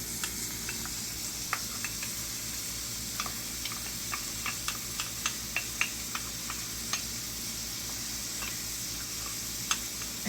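Minced garlic and shallot frying in a pan, a soft steady sizzle with scattered light ticks and pops from the food, faint and close, with no talk over it.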